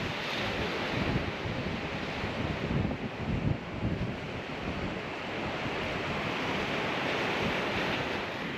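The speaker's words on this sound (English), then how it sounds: "Waves are pretty strong right now" Strong ocean waves at Depoe Bay on the Oregon coast: steady, loud surf roar with surges of breaking water, mixed with wind buffeting the microphone, no voices.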